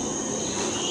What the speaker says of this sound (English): You still hear some resident insects and others.